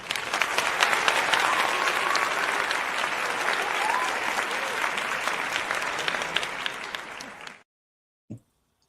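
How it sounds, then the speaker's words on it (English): Applause sound effect played during a livestream: a full crowd clapping loudly and steadily for about seven seconds, then cutting off abruptly into silence followed by a brief click. "So the applause is coming."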